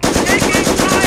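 Rapid machine-gun fire in the Company of Heroes game, a loud, dense, continuous burst that fills the whole moment, with battle noise underneath.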